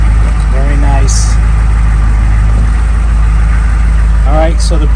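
CUCV M1028 (K30) military pickup truck engine idling, a loud, steady low rumble that runs continuously throughout, with someone briefly talking over it.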